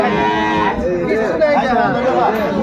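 Dairy cows at a crowded livestock market in Aftabganj, Dinajpur, lowing amid loud, continuous chatter from traders and buyers close by.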